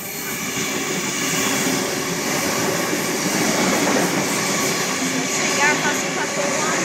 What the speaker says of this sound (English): here's a Tangara passing platform 1